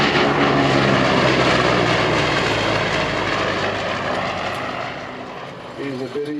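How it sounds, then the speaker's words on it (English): Corsair fighter plane from WWII roaring past low in a photo pass, a loud continuous propeller-engine drone that fades as it moves away, with a voice briefly heard at the end. "Here he comes by in a photo pass in the Corsair."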